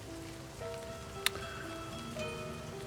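Steady rain patters on paper and surfaces in a horror visual novel game, a continuous soft wash of drops with one sharp tap near the middle and faint tonal music underneath, no voices.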